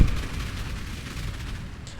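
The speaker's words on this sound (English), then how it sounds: "I'm dealing explosion of 60 spikes at any one time." A dense, continuous crackle of overlapping explosions bursts from Earthshatter spikes in Path of Exile after a warcry, loud and busy with no gaps, in a rapid rumbling barrage.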